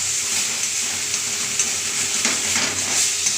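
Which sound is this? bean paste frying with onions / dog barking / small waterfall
bean paste frying with onions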